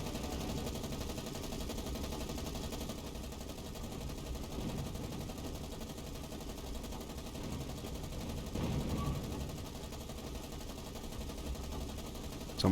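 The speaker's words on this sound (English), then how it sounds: "Someone's shooting at our scout here" Continuous rumbling gunfire aimed at a scout plane in a naval war game, a steady dense clatter of shots over a low droning background with no pauses.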